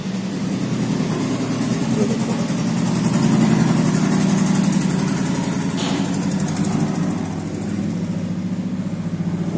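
A Farmtrac 60 tractor's diesel engine idles steadily with a low, even rumble and rhythmic chugging, rising slightly in the middle before settling back.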